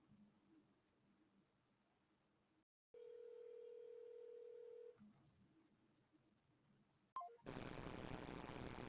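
A phone line gives a steady electronic dial tone for about two seconds while a call is placed, set between quiet stretches and followed by a burst of loud static hiss.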